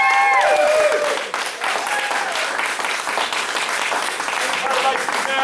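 Audience applause at a martial arts center belt ceremony in Mount Dora, Florida, honoring a student award winner: dense, sustained clapping throughout, with cheering voices and whoops rising over it.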